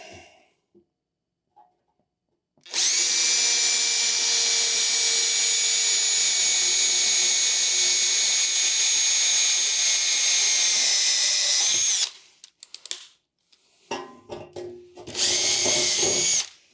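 A power drill bores a small pilot hole during work on an Atari Millipede cocktail arcade cabinet, its steady high whine running continuously for about nine seconds after a quiet start, then a few short bursts as the trigger is pulsed.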